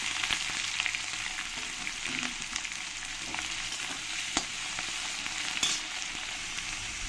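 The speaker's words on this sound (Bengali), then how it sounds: "মশলাতে যখন ভালো গন্ধটা বেরোবে তারপরে দিয়ে দেবো এর মধ্যে পেঁয়াজ কুচি।" Chopped onions hitting hot oil with whole spices for mutton kosha, a dense continuous sizzle with a few sharp utensil clicks, loud and close throughout with no talking.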